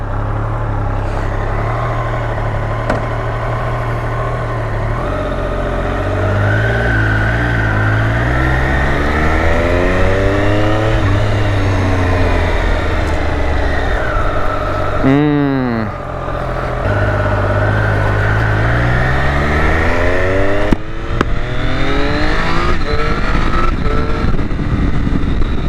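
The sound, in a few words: Triumph Moto2 Daytona motorcycle engine revving while riding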